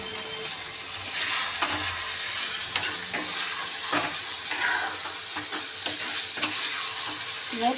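Potatoes simmering and frying in a pan, a loud continuous bubbling sizzle with occasional utensil scrapes, close up and without speech.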